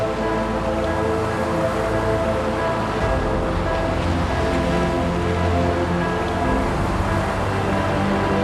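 Steady, unbroken roar of Black Sea waves and surf throughout, mixed with rumbling wind noise on the microphone, no voices heard.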